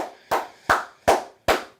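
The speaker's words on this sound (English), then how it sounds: "let's clap it up again to USF" Four sharp hand claps, close and evenly spaced, each a crisp smack with a quick decay, with no other sound around them.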